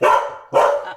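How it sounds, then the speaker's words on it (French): A dog barks twice in quick succession, two loud, close, sharp barks about half a second apart. "désolé pour le chien, n'ayez pas peur."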